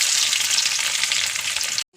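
Loud, bright sizzling of onions frying in hot oil in a pan, a constant crackle lasting nearly two seconds before stopping.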